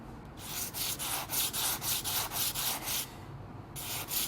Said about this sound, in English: but gently rubbing away until the excess has been removed from the surface of the stone